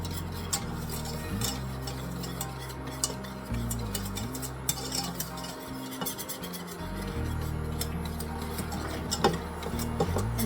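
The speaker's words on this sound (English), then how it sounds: "Give that a good stir." A spoon stirs sugar, cornstarch and egg in a bowl for chocolate pudding, giving a rapid, steady clinking and scraping rhythm close up, with a brief pause midway.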